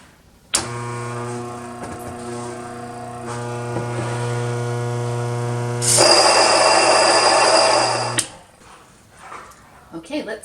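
Mockmill 100 flour grinder milling grain on setting 9: a steady motor hum with a tonal whine, growing louder and harsher for a couple of seconds before it cuts off, followed by faint handling noises.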